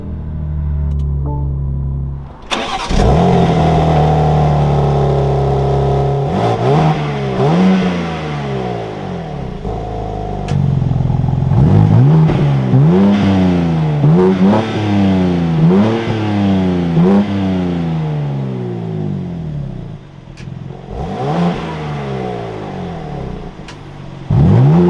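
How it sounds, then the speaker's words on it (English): A 2024 BMW M2 with a six-speed manual fires up from inside the cabin, its engine catching with a loud burst and then revving repeatedly in rising and falling sweeps, close and dominant throughout. "now inside the M2, keeping my foot on the clutch, we can go ahead and fire it up."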